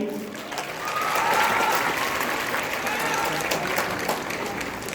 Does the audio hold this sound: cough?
no